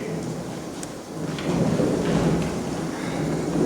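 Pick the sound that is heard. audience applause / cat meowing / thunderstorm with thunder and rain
thunderstorm with thunder and rain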